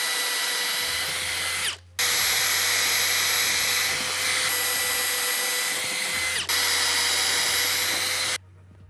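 A power drill fitted with a pilot bit bores into wood for outdoor stairs in two long, loud whining runs, each ending in an abrupt stop, with no talk.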